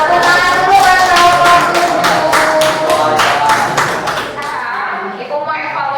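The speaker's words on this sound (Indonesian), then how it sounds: "Tepuk tangan dulu" Brief burst of classroom clapping, a class of children led by their teacher, with rhythmic hand claps close by for several seconds before fading into room chatter.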